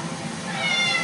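A house cat meows once, close and fairly loud, a short drawn-out cry with no other sound around it.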